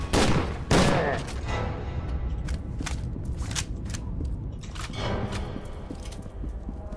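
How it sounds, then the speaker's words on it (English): SMG fire in the F.E.A.R. 2 shooter game, sounding like a pistol, rings out as a loud opening volley followed by a string of sharp, irregular single shots at close range. "I don't know why the SMG makes the F.E.A.R. 1 pistol noise."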